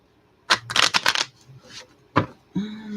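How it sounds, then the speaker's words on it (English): A deck of playing cards is riffled and shuffled at close range in a few quick bursts, with a voice briefly speaking near the end. "Let's shuffle them up."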